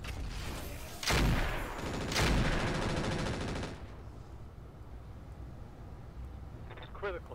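Game gunfire from the naval tactics game Roguepoint: two heavy blasts followed by dense rapid firing that stops after about four seconds, leaving a low hum and faint electronic chirps.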